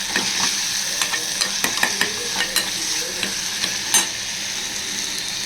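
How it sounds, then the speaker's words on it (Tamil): Ground pepper and cumin powder fry with tomato in a pan, giving a steady sizzle broken by scraping stirs throughout. "மிளகுத்தூள் கொஞ்சம், சீரகத்தூள் கொஞ்சம் ஆட் பண்ணி தக்காளியோட ஃப்ரை பண்ணிவிடுவோம்."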